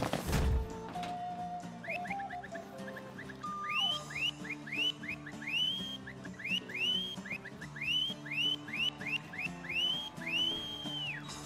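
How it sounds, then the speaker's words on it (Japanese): A character in Final Fantasy XV whistles a long run of short upward-sliding notes over game music and ambient sound, with a sharp thump at the start. "ちゃんと口笛を吹いて"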